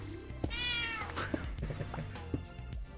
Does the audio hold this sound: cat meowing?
yes